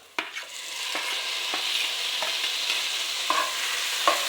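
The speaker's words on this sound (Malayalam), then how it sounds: "ഉള്ളി വാടിയിട്ടുണ്ട് നമുക്ക് തക്കാളിയും കൂടി ഇട്ട് കൊടുക്കാം" Onions and tomatoes frying in a pan for masala macaroni: a steady sizzle with several distinct scrapes and knocks of a spoon stirring at intervals, close and clear, with no talking.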